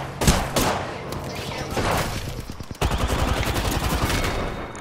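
Rapid bursts of automatic weapon fire from a match of the video game Apex Legends, loud dense volleys with a brief lull before a heavier sustained stream of shots.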